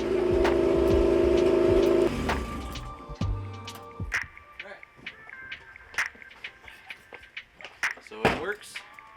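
A Honda D-series engine swapped into an EF-chassis Civic tries to start for the first time. A loud steady droning whir lasts about two seconds, cuts off, and scattered clicks and knocks follow.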